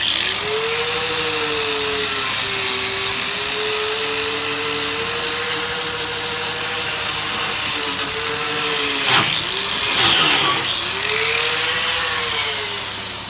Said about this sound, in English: I'm gonna hit it with the wire wheel real quick to get those threads cleaned up on the inner tie rod